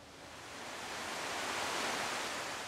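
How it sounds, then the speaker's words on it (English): Forest waterfall pouring steadily, a broad constant rush of falling water that swells slightly louder over a few seconds, with no voices. "Do you guys know how old this waterfall is?"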